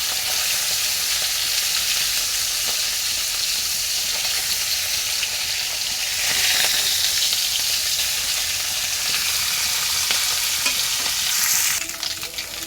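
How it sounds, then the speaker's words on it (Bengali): Food fries in hot oil with a continuous, loud hiss and crackle, close up and steady throughout, with faint stirring sounds underneath. "রান্না করলাম যে ভাজাভাজি করলাম তেলে"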